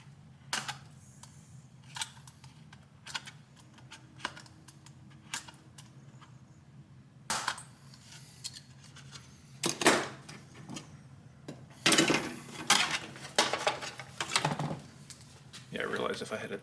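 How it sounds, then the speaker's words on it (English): Knife whittling a plastic console part for a 1977 Camaro Z28 in a garage, scattered short scrapes and clicks that grow busier toward the end, with someone talking at times. "Do some whittling."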